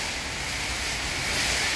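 Strong typhoon wind roars and hisses constantly during Typhoon Uwan in Daet, a dense, loud, unbroken rush that swells slightly toward the end, with no voices.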